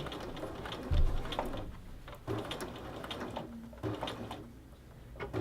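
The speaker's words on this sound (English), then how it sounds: "So I'm going to kind of stitch it right along that edge." Sewing machine running in short bursts as it stitches binding along a placket edge, with pauses between runs, close and moderately loud with no talking.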